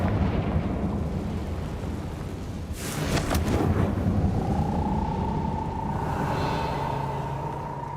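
A Confringo blasting spell explodes in Hogwarts Legacy, a deep rumbling blast swelling out of a constant low roar, followed by a lingering ringing whine, with no voices.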